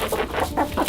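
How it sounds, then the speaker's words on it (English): Young chickens clucking close by on a farm near sundown, a few short soft clucks and chirpy calls in quick irregular bursts. "These are the young chickens that I added."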